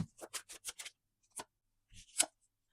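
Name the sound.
shuffling tarot cards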